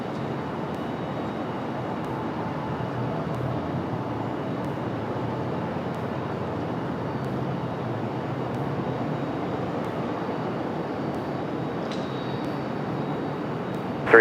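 A Copa Airlines airliner at Raleigh-Durham airport, heard as a steady, distant broadband roar of jet engines that holds evenly throughout without voices.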